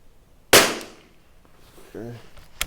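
A single sharp crack from a Tikka T1x .22 LR rimfire rifle, loud and close, followed by a brief voice and a fainter click near the end.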